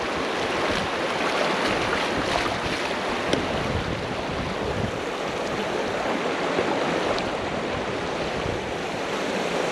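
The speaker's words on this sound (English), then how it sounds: "Give my boots a bit of a wash." Hiking boots being rinsed in a stream on a hike toward The Trinnacle, rushing water and splashing filling the whole stretch as a steady, loud wash with wind buffeting the microphone.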